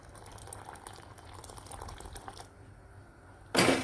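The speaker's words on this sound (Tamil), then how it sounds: "இப்போ இது நல்லா கொதி வந்தோடனே" A pot of water comes to a rolling boil for ragi porridge, with a steady bubbling, hissing wash throughout and a sudden louder burst of noise near the end.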